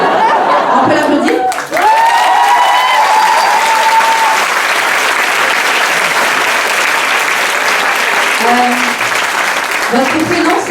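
An audience in a burlesque show's hall bursts into loud, dense applause that holds steady for several seconds, with a few voices and chuckles rising over the clapping near the start and end.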